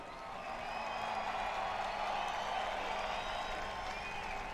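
A crowd at a Formula DRIFT Pro round in Long Beach cheers and applauds the top two drift finalists, a steady wash of noise with scattered whoops from a distance.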